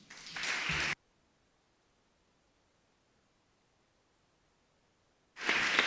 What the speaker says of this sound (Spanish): No se me pongan ustedes muy eufóricos con el aplauso